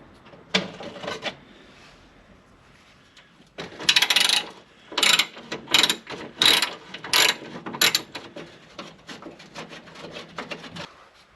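T20 Torx screws are backed out of an Audi TT Mk1 metal engine undertray with a ratchet, giving close, rhythmic runs of sharp ratcheting clicks in bursts separated by short pauses.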